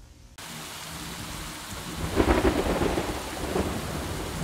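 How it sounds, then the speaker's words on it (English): Steady rain pours outside while thunder rumbles, swelling into a louder roll about halfway through before easing to a continuous downpour. "it's raining outside"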